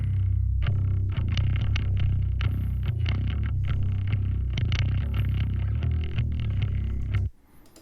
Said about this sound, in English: I've got a DI, which is running through just a basic clean amp sort of preset and guitar rig